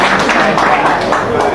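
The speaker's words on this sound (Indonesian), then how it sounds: "Tepuk tangan." A crowd applauds at a religious talk on choosing a presidential candidate, a dense, steady wash of clapping sustained throughout with no voices over it.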